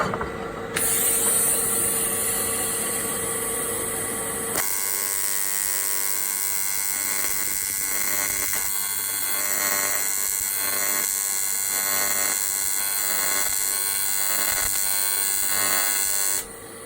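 A power brush grinding on a broken motor casing, a loud steady high-pitched whir that shifts pitch partway through and runs nearly unbroken with scraping pulses, close up.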